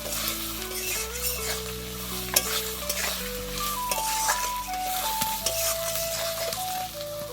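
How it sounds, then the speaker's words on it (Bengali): Masala stir-fried in a pan for Bengali fish head curry, an even sizzle with a few sharp spoon clinks against the pan, close, while melodic background music plays. "এবার খুব ভালোভাবে সব কিছুকে কষিয়ে নেব।"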